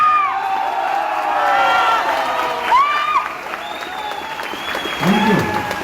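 An audience at a live stage show claps and cheers, a dense wash of applause with whoops and shouted voices rising over it, loud and close throughout.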